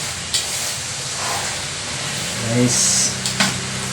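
Pork barbecue frying in hot oil gives a steady close sizzle and hiss, with a few brief clinks and a short voice partway through.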